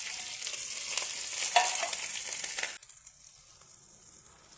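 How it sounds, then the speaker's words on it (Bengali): Bay leaf, onion and green chili sizzle loudly in hot oil for a chapila fish mustard curry, a dense steady crackle that suddenly drops to a much quieter simmering hiss partway through. "তেলে দিয়ে দেব তেজপাতা, পেঁয়াজ,"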